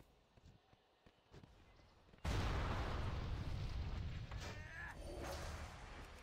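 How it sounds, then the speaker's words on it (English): A small firework launches in World of Warcraft, opening with a sudden loud whooshing burst that holds as a dense, sustained rush after a quiet stretch of faint ticking. "It's a nice sound. The little firework launching."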